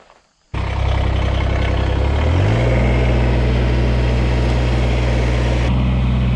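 A tractor engine starts abruptly and keeps running close by, a loud steady rumble whose pitch climbs briefly as it revs and then settles into an even drone.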